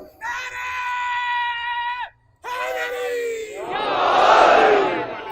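A large crowd at a Muharram majlis on Marton Road chants slogans in loud unison, one sustained call, a short pause, then a second chant swelling into a broad roaring response.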